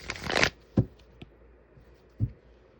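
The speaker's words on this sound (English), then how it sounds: "3 more shuffles" Tarot cards shuffled by hand at a live reading: a brief riffling burst at the start, then a few soft isolated taps and card knocks, close and quiet with no talk.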